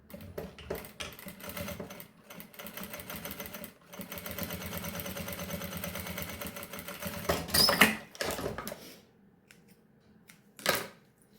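Sewing machine stitching a seam for a baby's comforter-holder pouch, with reverse backstitching at the start and end: a steady close mechanical whirr runs for several seconds in bursts, then stops, leaving a few short clicks and handling noises.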